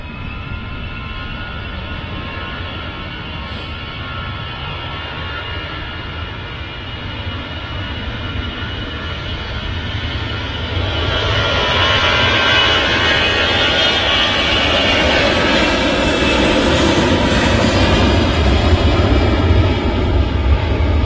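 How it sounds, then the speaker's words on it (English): An EasyJet Airbus A320ceo jet engine spools up at Manchester Airport before departure, a loud, close, steady roar and whine that swells and grows fuller about halfway through, with no voices. "Yeah, it's starting that engine, so they probably are getting ready for the departure."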